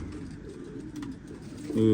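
Pigeons coo softly through steady low background sound, the calls swelling louder near the end; a voice speaks at times over them.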